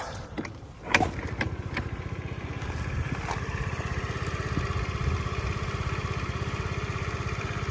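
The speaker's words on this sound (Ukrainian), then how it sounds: "Ідеально тихенько працює двигунчик." A Honda Dio AF-68 scooter engine idles steadily with an even, puttering rhythm, after a brief rattle of starting up; close and moderately loud.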